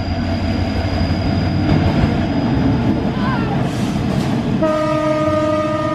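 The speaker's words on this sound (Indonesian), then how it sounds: "ini adalah gerbong kereta api tipe CC205 teman-teman, hampir sama dengan CC201 nya ya" An Indonesian CC205 locomotive hauling wagons passes close by with a loud, continuous rumble and clatter, then sounds a sustained horn blast near the end.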